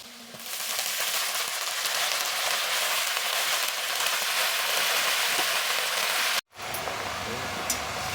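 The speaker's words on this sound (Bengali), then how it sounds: "আমি এখন এর মধ্যে শাকগুলো দিয়ে দেবো" Water spinach (kalmi shak) dropped into onions fried light brown in hot oil, a loud, close, continuous hissing sizzle that holds steady before a sudden cut and a quieter tail.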